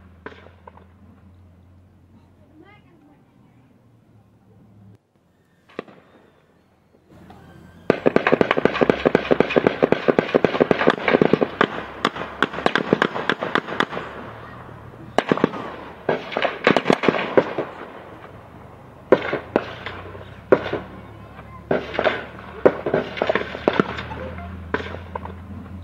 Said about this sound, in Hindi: ये गोलियों की तड़तड़ाहट आप सुन रहे हैं